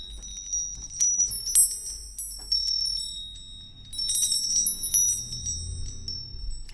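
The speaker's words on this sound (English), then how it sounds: "More bells." Small bells from India ring out in two bursts of bright, sustained tones, shimmering and overlapping, with a quiet low rumble underneath.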